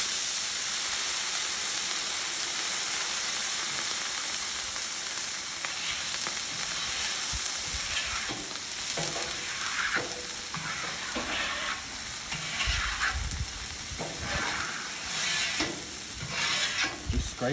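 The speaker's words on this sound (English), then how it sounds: "now you're going to hit it with some water, and this water steam cleans it" Water hitting a hot Blackstone griddle, steaming and sizzling in a loud, continuous hiss, with repeated scraping strokes of a spatula across the metal surface, close up and alone.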